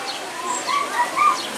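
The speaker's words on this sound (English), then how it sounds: "Little finches, little birds flying around, little chickadees flying around as well." Small birds, finches and chickadees, call faintly in a zoo aviary, with a few soft chirps rising over steady background hiss.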